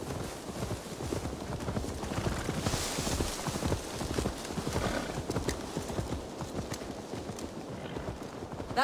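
Horse hooves clip-clop steadily in Assassin's Creed Valhalla, a dense, continuous rhythm of hoofbeats at close range with a brief whinny-like tone and outdoor ambience.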